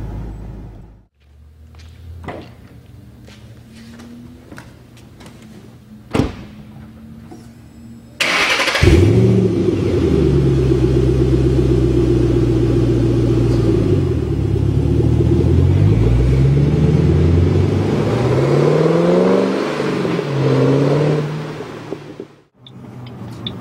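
Ford Mustang with a 435-horsepower engine starting with a loud burst, then rumbling and revving steadily as it drives off, with the engine note rising and falling for over ten seconds after a quieter idle.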